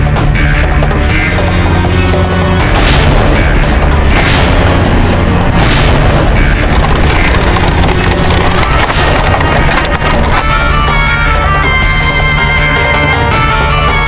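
Heavy cannon fire booms repeatedly through a battle scene of Mughal forces, deep blasts layered with splintering wood and dense battle noise, loud and continuous with no clear talk.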